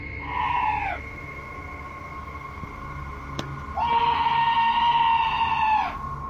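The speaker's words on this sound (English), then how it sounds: "This scream sounds like chills made audible, happening outside the door of what appears to be a trailer." Two long, high, wavering screams ring out just outside a trailer door, the first brief, the second sustained for about two seconds, both fairly loud against quiet outdoor background.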